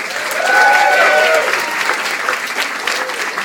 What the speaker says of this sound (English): we ought to give a round of applause for my co-author, Doug Stafford